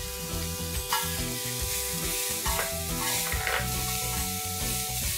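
Finely chopped green capsicum sautés with garlic paste for pav bhaji, giving a constant close sizzle with stirring scrapes and a few louder clanks of the spoon against the pan, and no talking.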